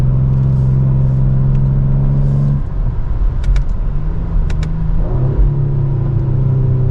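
A 2025 Ford Explorer ST engine revs hard on the Road America racetrack and climbs in pitch, drops briefly at a gear change, then pulls again, loud and close over tire and road rumble.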